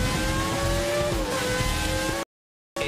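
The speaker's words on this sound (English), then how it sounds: "It's the distinctive sound of components moving at speeds that would destroy an ordinary engine." A 2.4-litre Formula 1 car engine revs with a high, tonal whine that climbs and holds loud and close, cutting to silence briefly before returning.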